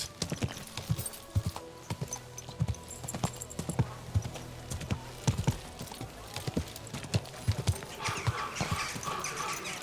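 Horse hooves clip-clopping steadily at close range in the medieval video game Kingdom Come: Deliverance II, an uneven walking rhythm of sharp knocks with faint ambient background and no talk.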